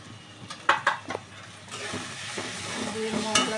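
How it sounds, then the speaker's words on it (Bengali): Ground spices with turmeric, cumin, coriander, chilli powder and green chillies frying in a pan for chicken ghugni, sharp stirring clacks at first, then a louder, steady sizzle close by. "দিয়ে মশলাটা ভালো করে কষে নেব।"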